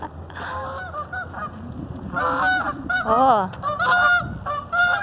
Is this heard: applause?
no